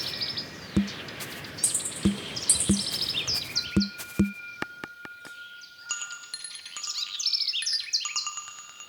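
Birds call and chirp outdoors in Chile's coastal Lafkenche territory, with bright repeated tweets and trills, short sharp knocks in the first half, and layered songbird phrases later, fairly close and without talk.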